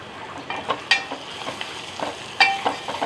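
Onions, green chilies and chili powder fry in a pan for masala dal, a soft steady sizzle broken by scattered spoon scrapes and light clinks against the metal, close by with no voices.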